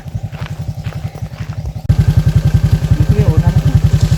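A motorcycle slides down a steep rough road, its engine putting out a loud rapid pulsing beat that grows harsher midway, with a clattering scrape over it.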